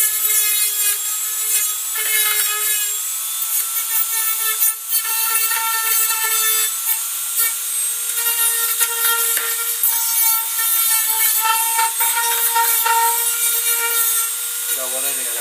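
A Dremel rotary tool fitted with small sanding discs grinds burrs off the underside of a homemade window-cleaning control panel, giving a steady high whine with gritty rubbing that runs continuously and loud, dipping briefly once.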